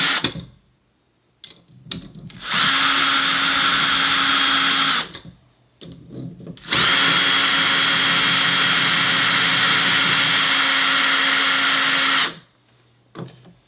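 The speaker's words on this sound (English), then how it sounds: "What I do is I don't drill them all fully in." A power drill whirs loudly in two long bursts of several seconds each, driving screws while installing an in-wall speaker, with short pauses and faint handling noise in between.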